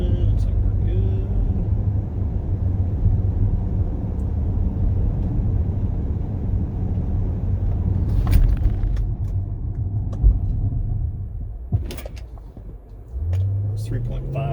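A Dodge R/T with stock brakes slows for a 60-0 braking test, its engine and road noise a low steady rumble from inside the cabin that fades as the car comes to a stop, with someone talking over it.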